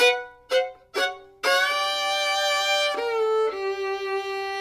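A bluegrass fiddle plays a break: three short plucked or bowed notes, then long sustained bowed notes with bright harmonics, played solo and close.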